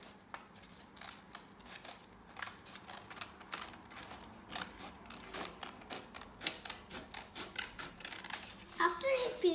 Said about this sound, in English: So I'll take the scissors and cut it through that line.